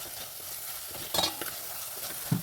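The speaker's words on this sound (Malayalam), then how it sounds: "ഇനി നമ്മൾ ഇതിലേക്ക് ഇഞ്ചി വെളുത്തുള്ളി ഒന്ന് ചതച്ചതിട്ട് കൊടുക്കാം" Crushed ginger and garlic frying with onion in a pan for Kerala-style fish curry, a steady close sizzle with a few sharp stirring scrapes near the middle and a knock at the end, no talking.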